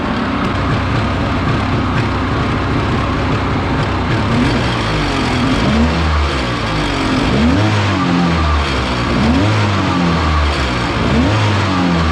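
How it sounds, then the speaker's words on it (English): A mini jetboat's upgraded engine revs through its exhaust, a loud, continuous rumbling drone with repeated rising and falling throttle blips, heard close up with no talking. "Give you guys some exhaust sound here."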